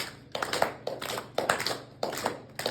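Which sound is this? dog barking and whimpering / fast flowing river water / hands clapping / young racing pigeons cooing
hands clapping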